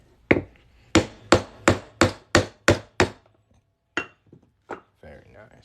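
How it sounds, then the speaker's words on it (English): Hammer strikes drive a center punch through an Arkansas quarter, eight sharp metallic blows in an even rhythm, close and loud, followed by a few lighter taps and a soft voice near the end. "we're just going to hammer this right on through here"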